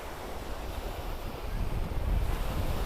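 Sea breeze and surf at South Beach, Miami Beach, a broad steady rush of wind buffeting the microphone, with waves swelling louder toward the end.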